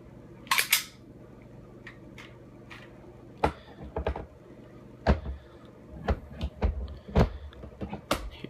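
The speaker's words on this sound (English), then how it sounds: "let me take out the mag first" Magazine being pulled from a Tokyo Marui Glock 18C airsoft pistol, a series of sharp close plastic and metal clicks and clacks with scattered handling noises between them, no talking.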